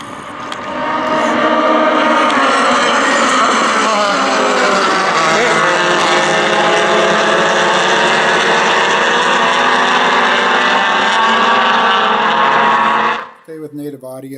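A pack of SCCA regional race cars roars off the start at Willow Springs, a loud, sustained engine drone that holds steady for several seconds with shifting tones before cutting off abruptly near the end.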